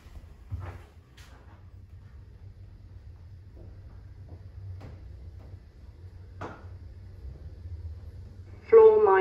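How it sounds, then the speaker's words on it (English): A brand new duplex Pickerings lift at a Morrisons supermarket in Margate closes its doors with a couple of soft clunks over a steady low machine hum, and a synthetic voice announcement follows at the very end. "Doors closing."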